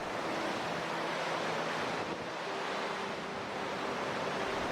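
Whitewater rapids on the North Fork of the Kings River pound over rocks in a constant, dense roar, steady and unbroken, with no voices.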